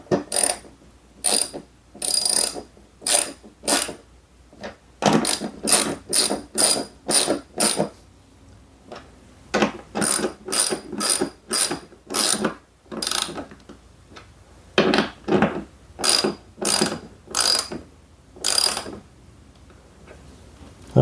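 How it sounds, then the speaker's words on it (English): A ratchet wrench tightens bolts on the mounts of an off-grid solar system, fast loud clicking bursts repeating in rhythmic runs with short pauses between strokes, close and clear. "get the right ratchet. Okay, now we can tighten these down."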